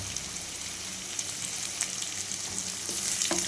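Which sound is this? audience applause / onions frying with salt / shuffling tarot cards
onions frying with salt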